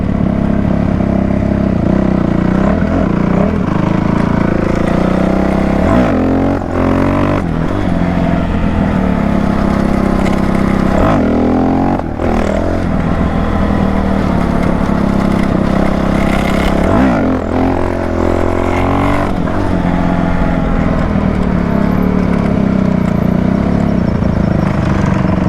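Dirt bike engines rev hard at night, loud and close, with the throttle rising and falling repeatedly through gear changes as one engine drones steadily beneath.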